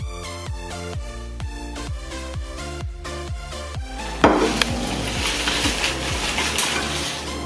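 Pita bread frying in hot oil for a homemade spinach and cheese dip: rhythmic clinks of utensils against a pan, then a loud broad sizzle that takes over and continues steadily.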